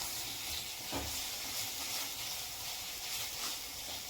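A masala of coconut, garlic and coriander fries in oil for shipi amti, producing a soft, steady hissing sizzle with one brief stir near the start.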